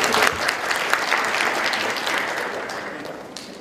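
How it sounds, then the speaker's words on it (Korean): A crowd claps steadily, a dense wash of applause that gradually fades toward the end. "큰 박수 부탁드리겠습니다"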